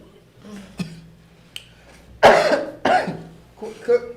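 Two or three harsh coughs close by, with talk and some faint clicks around them.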